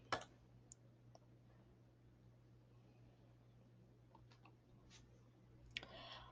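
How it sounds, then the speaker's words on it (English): A computer mouse clicks on a plus sign in a web page editor, giving a few faint, sharp clicks spread across otherwise quiet room hiss. "I'm going to click on this plus sign."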